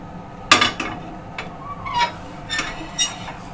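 A utensil stirring spiced egg tadka in a pan, with several sharp, separate clinks and scrapes against the metal in an otherwise quiet kitchen.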